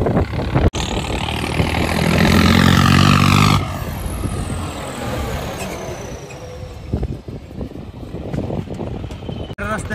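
Farmtrac and John Deere 5210 tractors race side by side, their engines roaring loud and close with heavy rumble and wind buffeting, easing after a few seconds into a steadier drone while people talk over it.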